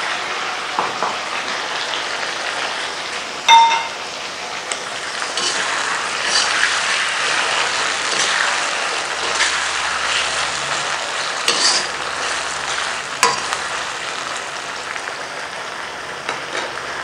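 Tomatoes are added and stirred into karahi daal, giving a steady close sizzle of frying with scraping stirs and a few sharp knocks of a utensil against the pan.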